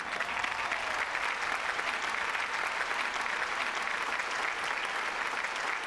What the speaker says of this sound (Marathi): याच्या दुप्पट टाळ्या आपण विजूमामासाठी पण वाजवूया.